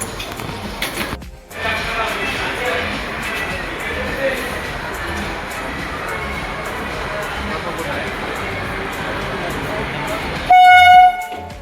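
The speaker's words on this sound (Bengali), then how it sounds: "ট্রেন আসছে" A train pulls into a station on the Kalyani to Murshidabad route, its broad, steady rolling roar filling the platform for several seconds, ending in a loud, sustained horn blast near the close, with voices in the background.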